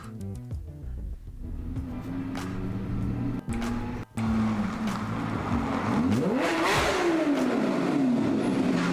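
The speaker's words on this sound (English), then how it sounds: "That does sound very V12-y. A lot more raspy than what you'd expect from a 6-cylinder." A game-simulated car engine with a V12-like sound revs and accelerates with a raspy exhaust note, pitch climbing through gears, loud and sustained with brief cuts between revs.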